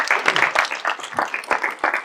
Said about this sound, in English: Applause to Maja too